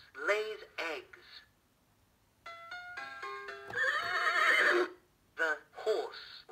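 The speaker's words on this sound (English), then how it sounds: "The horse runs very fast." An electronic horse whinny from a children's apple-shaped musical learning toy, one long loud neigh following a brief chiming melody, with a recorded voice talking before and after it.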